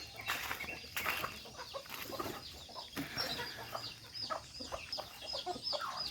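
Several native chickens on a mountain farm in Davao City cluck and chatter softly in a steady, scattered chorus, with occasional louder squawks, fairly quiet and close.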